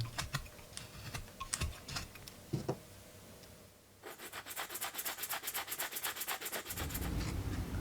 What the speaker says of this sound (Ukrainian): Гострим ножем обережно знімаємо до лінії.